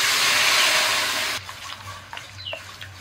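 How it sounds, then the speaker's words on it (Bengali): Boiled lentils (dal) pour into a pan of lightly fried ginger, a steady wet gushing rush for over a second before it cuts off, followed by quieter sizzling and small clinks. "আদা একদম হালকা করে ভেজে আমি এই সিদ্ধ করা ডালটা দিয়ে দিচ্ছি"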